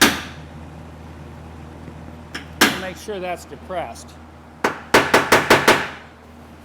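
A hammer strikes a punch against a dented car body panel during auto body repair: a few sharp metallic taps, then a quick run of five ringing hits, close by and mixed with someone talking.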